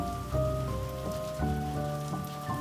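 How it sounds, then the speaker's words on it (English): Steady rain falls outside a stable, a soft continuous patter that holds through the whole stretch, blended with gentle sustained tones and no voices. "the sound of the rain outside creating a gentle backdrop"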